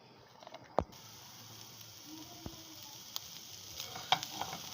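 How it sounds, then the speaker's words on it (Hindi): Onions sizzling and frying softly in a pan over low heat, a steady faint crackle with a few sharper clicks from stirring or a utensil touching the pan. "हम सारी प्याज इसके अंदर ऐड कर देते हैं"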